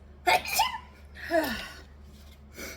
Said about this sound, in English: Oh, and I'm going to sneeze.